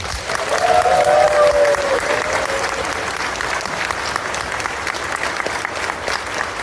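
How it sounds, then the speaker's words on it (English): Steady applause from a large audience at a furry convention's closing ceremony, loud and sustained throughout, with faint voices mixed into the clapping. "Give yourselves a round of applause."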